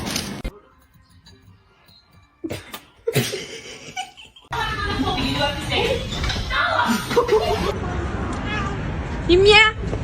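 A cat meows loudly and repeatedly at close range indoors, with rising and falling cries over people laughing and talking, after a quiet opening.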